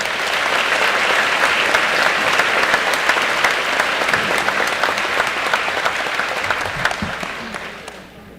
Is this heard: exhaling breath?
no